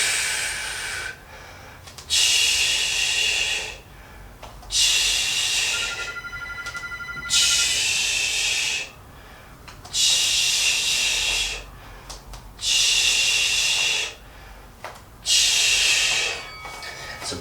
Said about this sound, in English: So listen to the breathing.